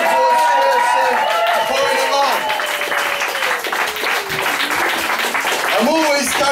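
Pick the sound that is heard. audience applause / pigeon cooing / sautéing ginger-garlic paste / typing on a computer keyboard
audience applause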